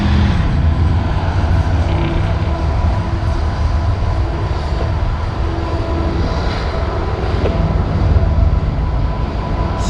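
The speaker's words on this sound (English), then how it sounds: "So there's a freight train going behind." A CSX freight train rumbles past close by in Bowling Green, Kentucky, a loud continuous roar of wheels and cars with low engine drone throughout, no talking.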